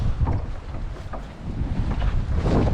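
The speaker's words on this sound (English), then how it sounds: "We're going to give this motor just a tickle of forward." A lugger's outboard motor ticks over gently in forward gear while the boat sits at its mooring in heavy waves, a low steady drone mixed with strong wind buffeting and water slapping the hull, with no talk.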